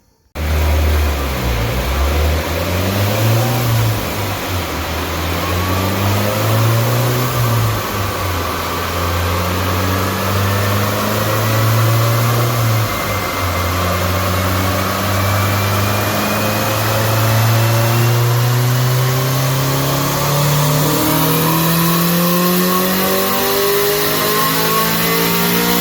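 A car engine revs hard through repeated dyno pulls, its loud, close drone climbing in pitch, easing off, then winding up again in long sweeps with no break in the noise.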